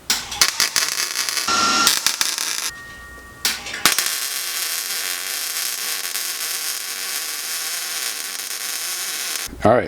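MIG welding on a Subaru GC8 rally car chassis, bursts of crackling arc buzz in short stitch welds, then a long steady sputtering hiss, with faint voices at the start.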